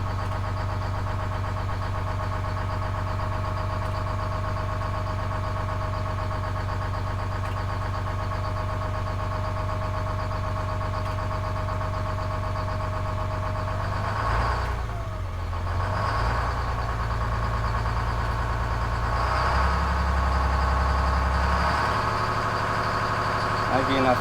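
A boat engine idles steadily just after starting, with a constant low drone throughout, and its throttle is blipped near the end, the pitch dipping and rising a few times. No speech is audible.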